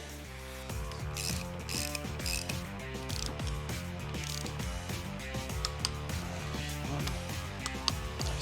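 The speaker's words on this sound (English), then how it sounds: "I could then go and stick in all of our cylinder head bolts and tighten them down to spec" A ratchet clicks rapidly and steadily while tightening cylinder head bolts on a 30-year-old Honda motorbike during an engine rebuild, a close, continuous metallic ticking with no talk.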